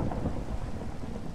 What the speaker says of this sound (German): Es regnet wie ein Ström.